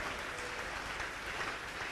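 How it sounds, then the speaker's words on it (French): A church congregation claps together in praise, a dense, even wash of many hands sustained throughout, fairly quiet and heard from a distance with no talking over it. "Applaudissons le Seigneur."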